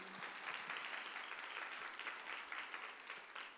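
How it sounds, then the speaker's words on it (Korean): Church congregation applauding during a Sunday worship service, a steady dense wash of clapping from many hands that runs the whole time, moderately distant and fairly even in level. "박수로 표현합시다"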